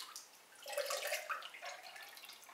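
Pottery glaze pours into a jug in a soft, close liquid stream. The splashing gurgle runs for a couple of seconds and stays fairly quiet.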